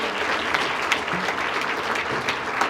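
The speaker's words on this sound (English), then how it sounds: "Let's give David a big round of applause" An audience at a Hispanic Heritage community event gives a big round of applause for a young man, a dense, even roar of many hands clapping from start to finish.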